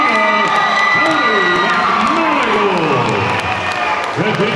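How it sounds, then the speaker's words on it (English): Boxing crowd cheering and whooping for the announced winner at an amateur bout, a loud continuous roar of shouts and high excited voices with some clapping mixed in, filling the room throughout. "Continue your applause to Rondell Hubbard of Perkins Falls."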